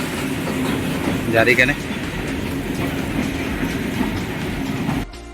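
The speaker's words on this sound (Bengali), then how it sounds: "যে ট্রেন যাচ্ছে" A train rumbles steadily across a rail bridge with rhythmic clatter, a voice talking briefly over it before the rumble cuts off.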